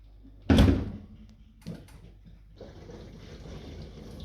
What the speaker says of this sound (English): As you can hear, the water is running.